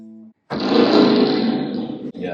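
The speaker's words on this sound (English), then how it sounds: "Got the reverb cranked up." Electric guitar played through a Fender Sidekick Reverb 25 combo amp with the spring reverb turned way up, a loud strummed chord ringing out for about a second and a half and trailing off, after a brief quieter tone.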